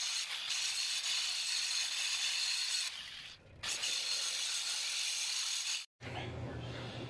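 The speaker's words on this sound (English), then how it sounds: "I'm just going to use the grinder and clean up the areas a bit." An angle grinder cleaning up welds on a log arch trailer, a loud continuous high whine with brief pauses and a short cutoff near the end, close by.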